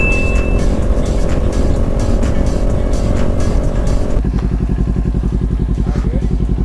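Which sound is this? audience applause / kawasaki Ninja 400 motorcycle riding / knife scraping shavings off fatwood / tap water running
kawasaki Ninja 400 motorcycle riding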